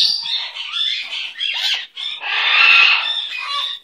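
A sun conure parrot squawks loudly and close in a series of harsh, raspy calls, with short breaks between bursts and one long shriek near the end.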